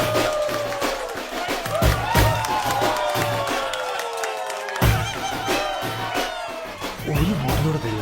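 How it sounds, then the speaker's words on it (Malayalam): Audience at an Onam celebration cheering and applauding, a lively crowd roar with whoops and clapping swelling in bursts, mixed with a sustained tonal sweep and loud background activity. "ഇവർക്കും വേണം ഒരു നല്ല കയ്യടി കൂടി"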